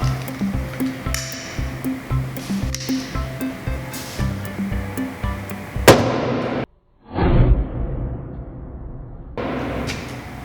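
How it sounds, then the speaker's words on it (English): A hydrogen-filled balloon meets a flame test and bursts in one sharp, loud boom, followed by a brief rushing roar that fades, after steady background noise and rhythmic thumps. "Hydrogen reacts to flame and it makes a big boom."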